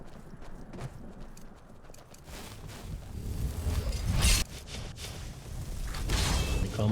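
Horse hooves galloping in Skyrim, a quick rhythmic clip-clop that picks up and grows louder over several seconds, with whooshing movement and faint background tones.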